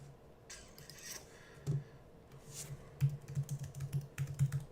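Typing on an Apple computer keyboard, a run of quick irregular clicks that picks up and grows steadier toward the end, close and fairly quiet, with no talking.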